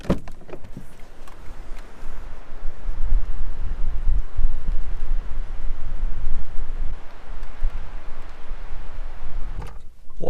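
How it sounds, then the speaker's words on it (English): Strong stormy wind in the Canary Islands roars continuously against the microphone, a loud low rumble that surges and eases in gusts for several seconds. "it's super windy"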